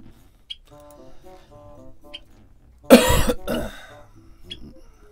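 One loud, rough cough burst up close, trailing into a short throaty rasp, with quiet tonal background sounds before and after.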